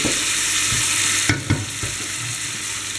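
Vegetables soften in a frying pan after a pinch of salt, giving a steady, loud, close sizzle with a few soft stirring knocks and no voices.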